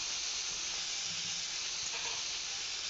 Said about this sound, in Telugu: పన్నీర్ ముక్కలన్నీ వేసేసి జస్ట్ ఫ్రై చేసుకోవాలి.